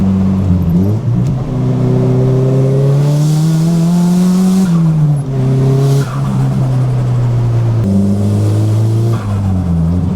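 A Nissan Silvia S15 drives on a mountain road. Its engine revs and rises through the gears, dropping at each shift, loud and close, with the tires sometimes squealing.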